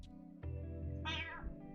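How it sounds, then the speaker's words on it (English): Two house cats fight, a short yowl giving way to a rising, strained caterwaul over a low steady hum, close and fairly quiet, with no talking. "my cats are actually fighting"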